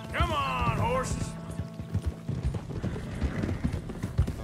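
Horse hooves clip-clopping at a gallop in Red Dead Redemption 2, a steady rapid rhythm close up under a voice, with a brief whinny-like tone early on.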